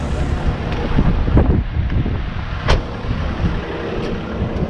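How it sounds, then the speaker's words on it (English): Strong gusting wind roars across an open sand dune, buffeting the microphone with a loud, continuous low rumble and occasional sharper gusts. "excuse the wind, it is as windy as hell out here"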